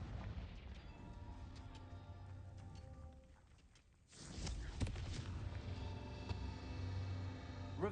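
A Confringo blasting spell in a wizarding video game bursts with a sudden loud boom after a brief lull, followed by a lingering rumbling crackle and scattered debris-like clatter.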